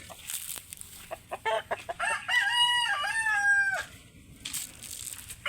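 Texas-breed roosters and chickens on a farm: scattered clucks and scratchy calls lead into one loud, clear rooster crow at mid-distance, followed by more faint clucking.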